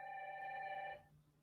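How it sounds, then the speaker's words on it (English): A mobile phone rings over Bluetooth with a bright, steady electronic ringtone lasting about a second before cutting off, leaving a low background hum. "my phone's ringing."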